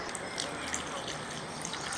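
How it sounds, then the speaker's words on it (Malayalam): Water pours steadily into a pan of mackerel curry, a continuous splashing rush close by with no voices. "ഒരല്പം വെള്ളം കൂടെ നമുക്കൊന്ന് ഒഴിച്ചു കൊടുക്കുകയാണ്"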